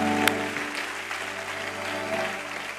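A church congregation applauds and cheers in a steady wash of clapping with voices mixed in, holding fairly level from start to finish.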